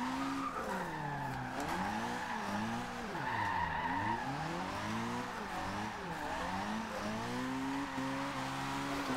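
Mazda MX5 Miata in Forza Horizon 2 drifting, with tires squealing continuously in wavering, sliding tones over a steady engine drone, loud and close throughout.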